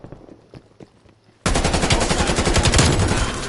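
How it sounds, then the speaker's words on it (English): Krig 6 rifle fire in Call of Duty. Some light clicks and taps come first, then a loud, rapid automatic burst that runs without a break to the end, close and with no voices. "This is a very good Krig 6."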